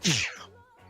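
A single loud, close sneeze bursts out at the start during a board game session, then fades into quieter tonal sounds.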